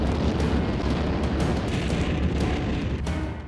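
Artillery cannons firing in a heavy, rumbling barrage, with booming blasts merging into a continuous roar that stays loud for the whole stretch.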